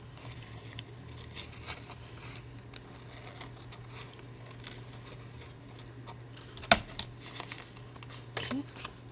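Scissors trimming scrap paper for a craft project, a few soft snips and crinkles, with a sharper cut partway through, under low background hum.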